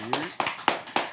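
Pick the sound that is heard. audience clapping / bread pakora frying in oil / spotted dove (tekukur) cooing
audience clapping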